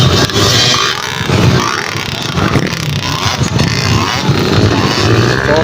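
Enduro motorcycles racing hard in a local enduro invitational final heat at Sto. Tomas, with a dense, continuous engine roar that stays loud and steady throughout, without talk.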